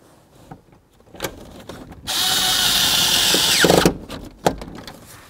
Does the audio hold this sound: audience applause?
no